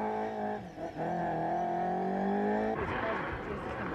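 A rear-wheel drive Mark II Escort rally car at a Galway rally holds a loud, sustained engine drone with a rising pitch, then changes gear and keeps revving. It sounds close and continuous, with no one speaking.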